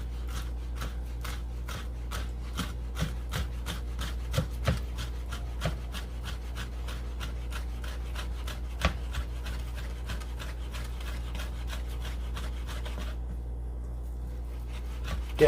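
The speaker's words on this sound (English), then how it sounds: "fingers curled back, and just kind of rock and chop back and forth." A knife rocks back and forth, chopping jalapeño peppers on a cutting board, giving a steady run of short, soft taps and scrapes under faint background hum, with no voices.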